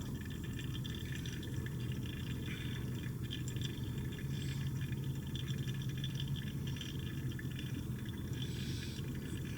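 A steady, continuous trickle of water pours over coffee grounds for several seconds, close and even, with a faint low hum beneath.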